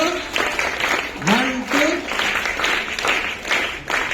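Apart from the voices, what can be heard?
applause, clapping for the team captain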